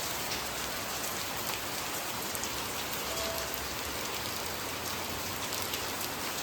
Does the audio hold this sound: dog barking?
no